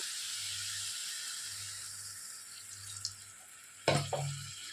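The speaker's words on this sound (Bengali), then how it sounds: "এবারে আমরা অল্প একটু জল দিয়ে দেব।" Water is poured into a cucumber curry simmering with spices in the pot. A hot sizzle runs under a low hum before a louder splash and hiss burst up near the end as the water lands.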